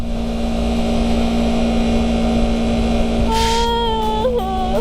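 A Honda CBR250RR motorcycle engine runs with a steady, droning hum, then revs sharply upward several times toward the end in rising, whining bursts.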